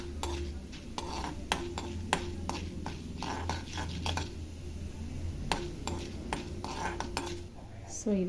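Urad dal being stirred as it fries in a pan while making a chutney, with a spoon scraping and clinking against the metal in a quick irregular rhythm over a faint sizzle, close by.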